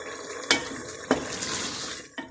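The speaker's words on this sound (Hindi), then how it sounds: "हल्का सा पानी डालना है बस, हाफ कप।" Half a cup of water is poured into a hot pan of matar gosht (peas and meat curry) during cooking. Three sharp splashing bursts are each followed by a steady, close hiss of water in the pan. No one talks.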